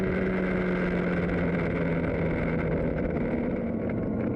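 A motorcycle cruising along the main road to Chachapoyas in Peru, a loud, steady engine drone with a constant hum and wind rush throughout, no talking.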